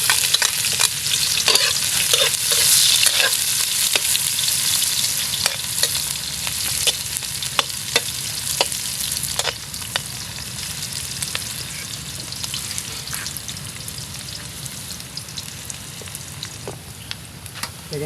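Ginger and onion fry in a pan with a bright, constant sizzle, punctuated by sharp scraping taps of a utensil stirring the pieces, close and steady throughout.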